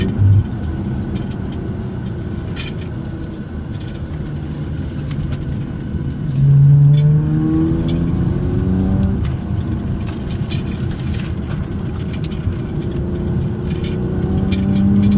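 Steady engine and road drone from an Infiniti FX37 SUV fitted with a strut bar, heard from inside while driving, with a slight swell of revving partway through and no voices.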